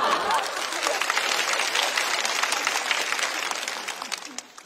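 Audience applause at a stand-up comedy show fills the room as a dense, steady clapping that gradually thins out toward the end.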